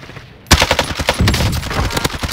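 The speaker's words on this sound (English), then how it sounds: "I shot the guy in the window." Rapid gunfire in a first-person shooter video game bursts in loud and close after a half-second lull, then continues as a dense, uneven stream of shots.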